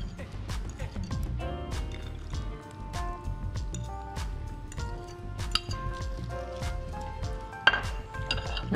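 Whipped cream being mixed with mascarpone cheese for a chocolate diplomat cake, giving soft squishing and occasional utensil clinks against the bowl, close and quiet under light background music.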